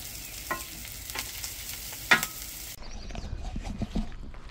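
Steak and eggs sizzle on a café griddle, a steady frying hiss with sharp metallic scrapes and stirring clicks from a spatula, fairly close, with no voices.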